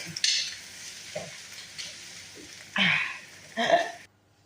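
Filipino garlic fried rice sizzles steadily in a pan while a utensil stirs and scrapes it in a few loud, rough bursts, close up and with no speech.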